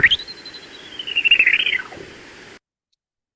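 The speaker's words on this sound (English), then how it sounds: "These are produced by the horseshoe bats" Horseshoe bat echolocation on a bat detector: a sustained, wavering warble that holds a steady tone, rises slightly, then drops away after about two seconds, heard alone and fairly loud.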